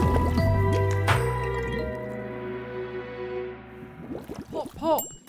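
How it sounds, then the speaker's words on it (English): Cartoon bubbles pop in a warm mud pool, a cluster of wet, bubbly blips arriving near the end after sustained musical tones from a children's song. "Pop, pop! Go the bubbles in the mud pool."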